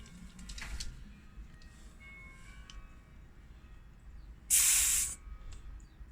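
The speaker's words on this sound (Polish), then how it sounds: "I zjeżdżamy z przednim ciśnieniem z przedniego koła." A short, loud burst of hissing air lasting under a second, standing out over quiet background noise, as pressure is released from the front tire valve of a Harley-Davidson Fat Boy 114 motorcycle.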